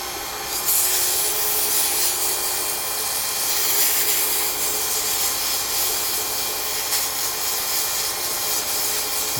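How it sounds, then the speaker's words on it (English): A wooden pin blank is sanded with 220 grit sandpaper in a circular motion, giving a continuous, close, steady scratchy rubbing that runs evenly throughout with no talking. "I want to take sandpaper. I'm going to start with 220 grit"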